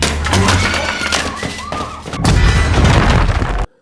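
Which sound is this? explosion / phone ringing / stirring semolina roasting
explosion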